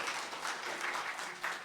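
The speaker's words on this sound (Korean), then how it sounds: "저희 한번 박수할까요?" A church congregation applauds together at a Sunday Advent service, a steady, moderately loud wash of clapping that runs without a break and with no speech over it.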